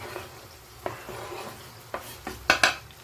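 Chopped tomatoes going into a pan of masala kaleji (spiced goat liver) for Bakra Eid, with a soft background sizzle broken by several sharp stirring and scraping clinks of a spoon against the pan, bunched toward the end.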